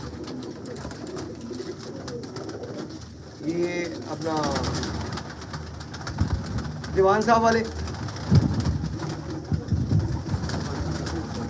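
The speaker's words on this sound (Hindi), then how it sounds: "दिलावर खान साहब के घर के हंसराज कबूतर" Hansraj pigeons from Dilawar Khan's loft cooing in short rolling bursts, close by, while someone talks over them.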